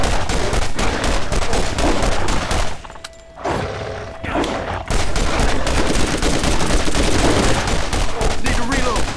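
Rapid gunfire and bursts of automatic shots ring out in a Borderlands firefight, loud and sustained, with a brief lull before the shooting resumes; voices talk over the action.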